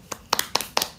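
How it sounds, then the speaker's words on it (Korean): Hand clapping during a live online broadcast: four distinct double claps in a quick irregular rhythm, close and crisp, with no talking over them. "박수!"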